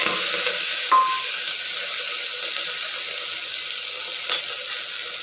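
Fenugreek leaves are sautéed in a pan for methi chakolya, producing a continuous even sizzle with a couple of brief clinks, close and fairly loud.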